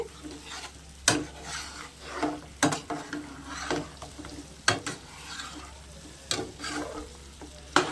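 Chicken fry being stirred in a pan over a low flame, a constant sizzle broken by sharp, irregular clanks and scrapes of a spatula against the pan, close and fairly loud, with no talking.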